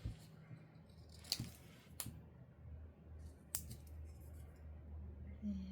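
Scissors trimming paper at a craft desk, a few crisp snips and short clicks at irregular intervals over a low steady room hum, fairly quiet and close.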